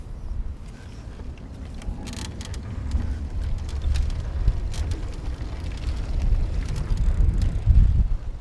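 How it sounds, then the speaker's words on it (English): A RadWagon electric cargo bike rolls along on pedal assist with its gearless hub motor, giving a steady low rumble mixed with wind buffeting the microphone, growing slightly louder toward the end. "I might just start off with pedal assist here, and you know, pay attention to like how quickly the motor turns on and turns off"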